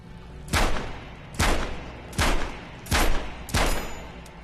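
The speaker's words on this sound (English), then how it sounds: "Line up your shots down the gun sights" Five loud gunshots ring out in Metro Awakening VR, evenly spaced about a second apart, each a sharp close crack with a short decaying tail, and no talking.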